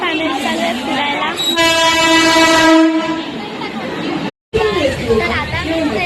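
A passenger train running on rails, with a loud sustained horn blast over rumbling carriages and clatter, nearby people talking throughout and a brief dropout near the end.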